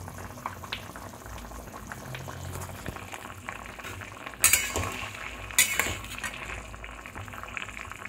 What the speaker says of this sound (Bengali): আমি জলের মধ্যে আলু কুমড়োটা দিয়ে সিদ্ধ করে নিচ্ছি